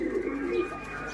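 Domestic pigeons coo steadily on a rooftop, a low continuous warble close by against outdoor background noise.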